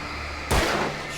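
A single sharp gunshot in the horror game Alan Wake 2, loud and sudden against a quiet ambient hum, ringing out briefly.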